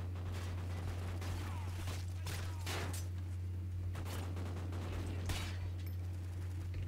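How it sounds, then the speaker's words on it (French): Gunfire in Call of Duty: Ghosts multiplayer: scattered shots and short bursts at moderate distance over a steady low game hum, with no talk. "Il est où celui qui me tirait dessus?"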